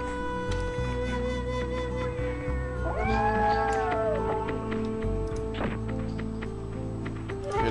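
A cat meows in the Tenchu: Stealth Assassins video game, several drawn-out calls rising and falling over a steady droning game soundtrack, with no talking.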